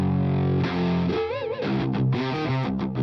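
Guitar played through the clean channel of a Bogren Digital Ampknob amp simulator, with mild overdriven breakup. A held chord gives way to a short, bending run of notes, slightly gritty and loud, with no talking.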